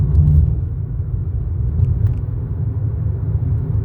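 Steady low road rumble inside a car cruising on a highway, a continuous loud drone heard alone with no talk.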